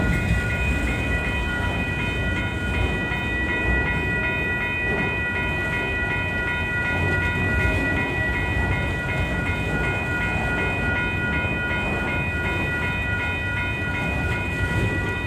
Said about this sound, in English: you can see the train heading towards the northwest.